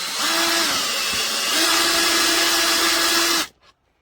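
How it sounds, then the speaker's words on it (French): A power drill fitted with a wolfcraft Flip bit drills a hole with a steady, loud whine that dips briefly, then runs on before stopping abruptly. "on se met à l'endroit où on veut percer"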